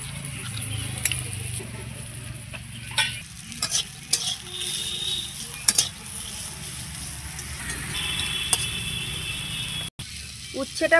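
Bitter gourd frying in a pan sizzles steadily and close by, broken by scraping and clattering from stirring and handling of utensils.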